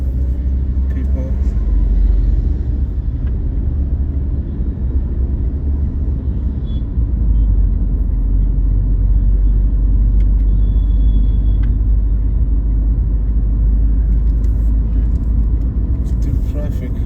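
Road traffic in Abidjan, a continuous low rumble of engines and passing vehicles with an occasional brief hiss of air brakes, heard up close from within the flow and steady throughout.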